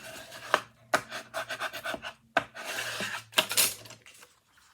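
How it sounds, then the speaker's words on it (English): Folded paper for a small craft project being burnished, a series of soft rubbing and scraping strokes with brief sharp taps, close and fairly quiet, with no talking. "Give it a good burnish."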